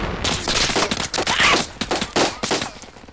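Heavy combat din in Project Reality as a tank fires its gun, loud overlapping blasts and crackling gunfire in rapid irregular bursts that fill the whole stretch with no clear talk.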